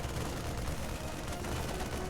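Steady rapid-fire shooting from Marines attacking a Photon Cannon in StarCraft II, a continuous dense rattle at low level with no talk over it.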